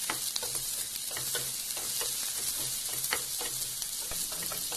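Capsicum stir-frying in a pan for baby corn manchurian gives a steady close sizzle, with a spatula scraping and tapping against the pan at irregular intervals and no voices.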